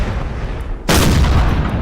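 A cannon booms on a battlefield in the Napoleon Total War NTW3 mod, a sudden loud broadband blast that cuts in about halfway through and rumbles on over constant battle noise.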